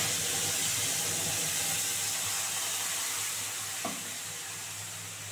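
Ground spice paste goes into hot oil already sizzling with nigella seeds, giving a steady broadband frying hiss that runs throughout with a soft clunk near the end; no one speaks.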